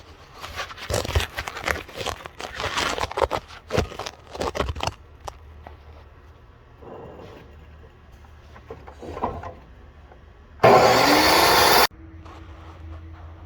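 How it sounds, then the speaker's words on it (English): A DeWalt 872 chop saw, set at 45 degrees, cuts through tacked steel bars in one loud, harsh burst of about a second. Scattered clanks and handling noises of the metal come before it. "I've got my DeWalt 872 set up at 45 degrees, and the only part of these bars I've got tacked together is the part I'm going to cut off"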